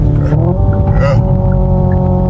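A Hyundai car's engine revs loudly on a downshift, a sustained, rising and falling engine tone filling the whole clip, with a brief burst of voice or exhaust noise near the middle.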